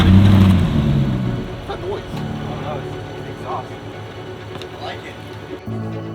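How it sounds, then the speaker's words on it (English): A Lexus GX stuck off-road on rocks, engine roaring hard at first then settling into a sustained rumble as the tires spin and burn, loud and close. "Just burning up tires."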